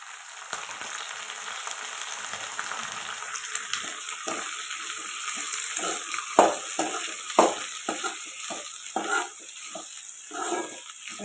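Pirandai (adamant creeper) sautéing in oil for a thuvayal, a steady close sizzle with intermittent scraping stir strokes that grow busier partway through, no voices.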